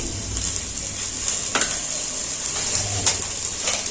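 Raw mango pieces fry with turmeric, salt and chili powder, giving a steady close sizzle with a few light clinks of stirring.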